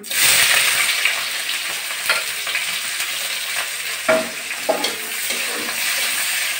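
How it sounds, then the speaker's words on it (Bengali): Chopped onions fry in hot oil with a loud, close, continuous sizzle. A few soft clicks and knocks of stirring come through along the way. "পেঁয়াজটা হালকা করে ভেজে নিচ্ছি আগে।"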